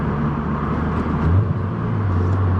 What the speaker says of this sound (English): Let's try some more downshifts.